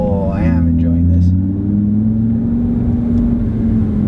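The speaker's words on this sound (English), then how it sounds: "let's see how it accelerates. God, it really sounds like a V10." An Audi RS3 accelerates hard, its engine revving with a rising, droning growl that stays loud and close throughout, with an occupant's voice heard briefly over it.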